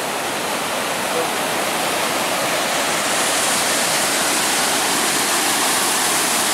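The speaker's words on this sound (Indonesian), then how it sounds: "Nah ini udah sampai di bendungan teman-teman." Muddy, swollen river water rushing over a dam on a jungle river, a dense, steady roar of churning water with no breaks, loud and close throughout.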